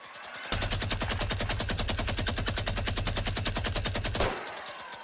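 Sustained rapid automatic gunfire in Fortnite Battle Royale, a loud, evenly pulsing burst lasting nearly four seconds before cutting off, with quieter game ambience on either side.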